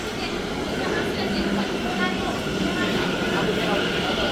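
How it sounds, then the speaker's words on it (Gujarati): A train arriving at a station rumbles steadily nearby with a broad, continuous roar and faint rail clatter, while people talk underneath. "અમારી ટ્રેન આવી ગઈ છે"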